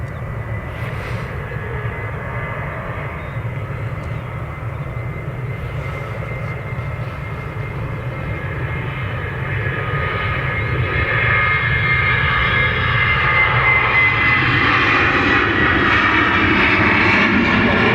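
A Ryanair airliner at Dublin Airport, lined up on runway 28 right, gives off a steady engine roar that grows louder partway through and then holds at full strength, with no voices over it.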